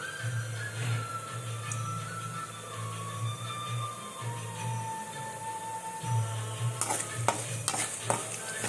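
Tempering spices fry in hot oil with dried red chillies, a constant sizzle over a low rhythmic scraping as the spoon stirs the pan, ending in a few sharp clinks.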